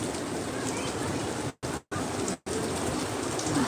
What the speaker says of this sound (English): Very heavy rains.